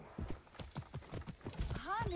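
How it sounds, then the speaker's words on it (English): Horse hooves clip-clop in a quick, even rhythm in Assassin's Creed Origins, ending with a short whinny. "What is with all the horses?"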